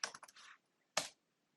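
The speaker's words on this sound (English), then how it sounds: "by typing engine.connect." Fingers type close up on a computer keyboard, a quick flurry of clicking keystrokes followed by a pause and then one final firm key press. The room is otherwise quiet.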